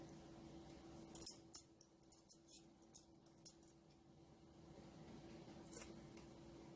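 Scissors snip a band out of a wig unit near its closure, giving a handful of soft, crisp cuts close by in a quiet room, spaced irregularly with brief pauses between them.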